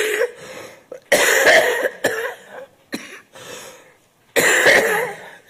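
Several loud, harsh coughs in quick bursts close to the microphone, separated by brief pauses, during a city council meeting.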